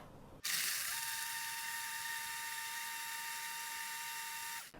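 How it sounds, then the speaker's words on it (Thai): Electric blender whirring as it blends a low-sugar cheesecake milkshake, switching on abruptly and holding a steady, high-pitched motor whine for about four seconds before cutting off. "25วินาทีค่ะ เป็นเวลาที่เราตั้งสำหรับปั่นตัวเมนูมิลเชคหรือว่านมปั่นค่ะ"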